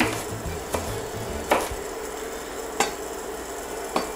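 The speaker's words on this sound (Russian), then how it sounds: "Лук режу не сильно мелко, друзья, я не мельчу." Knife chopping onion on a board, a handful of sharp irregular cuts spaced about a second apart over a steady low kitchen hum, no talking, while preparing classic lasagna.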